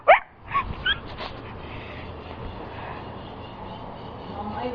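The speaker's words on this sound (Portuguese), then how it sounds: "Ela tá latindo que pra mim tirar ela, vai." A small dog in a swimming pool gives a sharp yelp and a couple of short whimpering barks up close at the start, then quiet splashing water and room noise follow.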